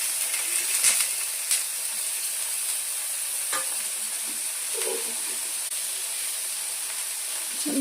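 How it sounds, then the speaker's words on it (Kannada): Cubes of paneer fry with turmeric and chilli in a pan, giving a steady soft sizzle and hiss with a few stirring scrapes and clinks, and no one speaking. "ಚೆನ್ನಾಗಿ ಫ್ರೈ ಮಾಡಬೇಕಿದು."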